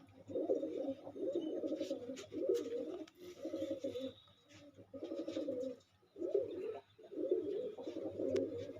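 Pigeons coo in repeated soft, throaty phrases with short pauses between them, close by and fairly quiet.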